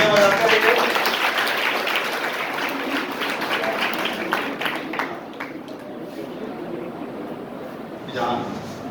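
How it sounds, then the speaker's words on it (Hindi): Applause from an audience at a Pandey Classes gathering celebrating NEET results: sustained, dense clapping that runs for several seconds, fades a little toward the end and swells briefly again, with voices mixed in underneath. "तालियां बजाते रहिए।"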